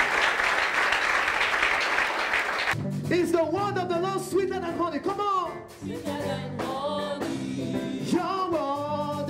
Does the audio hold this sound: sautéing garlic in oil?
no